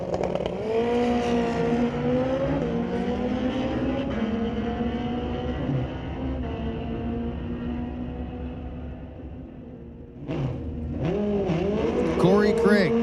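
Two 1300 Suzuki Hayabusa motorcycles, one turbocharged and one a 2008 model, drag race at Mission Raceway Park with a loud, sustained engine howl that rises and shifts in pitch, dips briefly, then revs up again.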